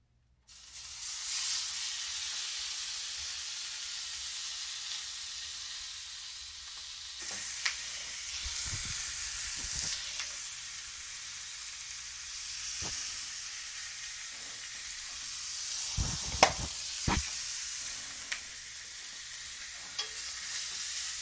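A steak sears in a hot skillet with olive oil: a loud, steady sizzle and hiss runs throughout, with a few brief bumps and scrapes of the pan, and no talking.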